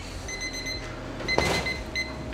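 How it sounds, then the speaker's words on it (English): A kitchen timer beeps in short repeated bursts while uni tostada is cooked, fairly faint against a background hiss, with a brief clatter partway through. "we got the timer here"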